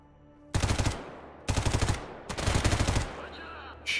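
Bursts of automatic gunfire in the video game S.T.A.L.K.E.R. GAMMA, three loud rapid volleys separated by short pauses, close and dominant, with a faint tail of game sound afterward.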